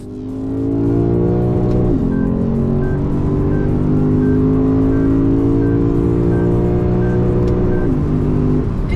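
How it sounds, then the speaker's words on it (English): A 2024 Lexus RC F Platinum with its 5.0-litre V8 drones loud and steady up close, with pitch steps where it downshifts around the two-second mark and again near the end. "Listen to it downshift."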